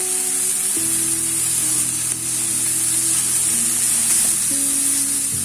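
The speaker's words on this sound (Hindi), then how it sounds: "गोभी डालकर हमें इसे ऐसे ही चला लेना है। चम्मच से चलाते रहें।" Shredded cabbage sizzles loudly in a hot pan while a spoon stirs it, a close, continuous frying hiss with faint scraping and no talking.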